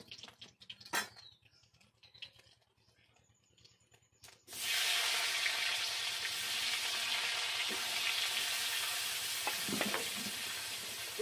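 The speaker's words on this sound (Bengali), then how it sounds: "এবার ওই তেলে আমি আলুগুলো ভেজে নেব।" Potatoes hit hot oil after a few faint clinks and taps, bursting into a loud, sustained hiss that carries on steadily with occasional crackles and stirring scrapes.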